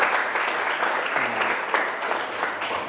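Students clap for a group after its score is announced in a classroom session, a dense burst of many hands that is loud at first and then slowly thins and fades, with a voice briefly heard underneath.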